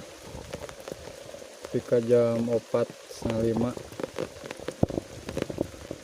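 Heavy rain in a hillside village hit by landslides, a steady dense hiss of drops on surfaces throughout, with a person talking and some tonal calls partway through.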